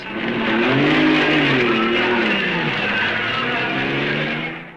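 A 1955 Formula One race car, number 24, pulls away from the pits at the Belgian Grand Prix at Spa-Francorchamps. Its loud engine note rises and wavers through the gears, close and continuous, before fading slightly at the end.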